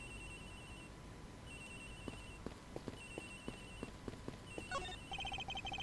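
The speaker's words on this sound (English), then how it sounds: "Agent Hicks' phone is ringing from somewhere, sir." In the video game Ace Attorney Investigations, an electronic phone rings in repeating bursts at low volume, heard alongside a regular series of soft footstep taps and a brief game chime near the end.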